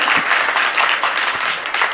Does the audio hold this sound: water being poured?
no